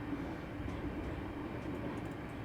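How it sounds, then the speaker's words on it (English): A train running in Train Sim Classic on the Glasgow to Dunblane route gives off a steady, close rumble and rolling wheel noise. The sound is loud and unbroken, with no voices. "I like the train noise"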